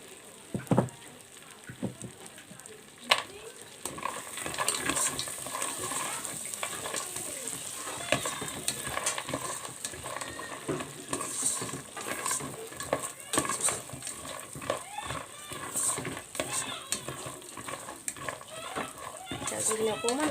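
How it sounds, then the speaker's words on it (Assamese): Cashews fry in a hot pan with steady crackling sizzle while a utensil stirs and scrapes through them, with clicks and knocks of the spoon against the pan throughout. "কাজুখিনি অকণমান ভাজি হৈ যাওক।"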